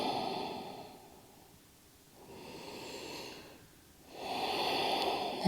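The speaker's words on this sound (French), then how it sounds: "Encore 3 belles respirations." Slow deep breathing during a gentle mobility routine, long soft inhales and exhales rising and falling in broad waves, close and quiet with no talking.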